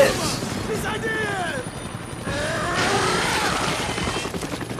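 A helicopter in the video game X-Men Origins: Wolverine produces a steady rotor drone mixed with rumbling game effects throughout, with a voice speaking over it.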